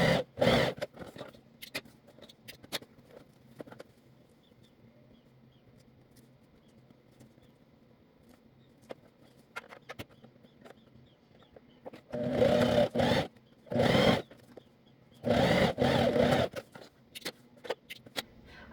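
Sewing machine stitching a zipper onto a fabric pouch, with short bursts of loud mechanical whirring separated by quiet handling and faint rustling.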